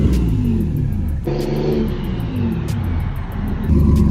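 Close, loud revving from a turbocharged Nissan 350Z Nismo, its engine note climbing and dropping in quick pulls over a steady low rumble, heard without any talking.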